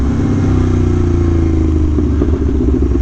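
An Aprilia Tuono V4 1100 Factory motorcycle's V4 engine drones steadily up close, holding a loud, even hum throughout with a slight shift in pitch as the bike rides on, alone with no voices.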